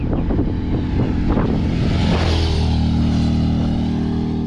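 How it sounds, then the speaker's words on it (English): A motorcycle engine drones along the Transalpina mountain road, first revving unevenly, then settling into a sustained, fairly loud, steady hum amid wind noise, with no one speaking. "It's such a nice environment, and then you hear the motorcycle like forever."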